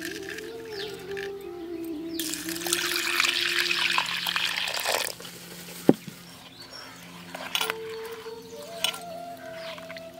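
Water pours and trickles into a vessel as salt is stirred in to dissolve while preparing ragi flour for a Tamil puttu dish, a splashing rush followed by quieter clinks and dribbles, with faint birdsong in the background.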